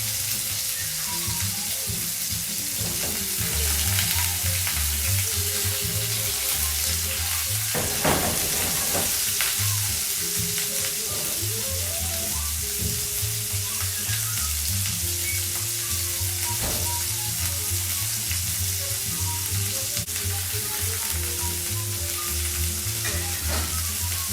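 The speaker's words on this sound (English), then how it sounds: "we'll probably sear these for about, 3 or 4 minutes each side" Moroccan spiced flank steak sears in a hot pan with a steady, loud sizzle that holds throughout, close by, with occasional faint knocks and scrapes.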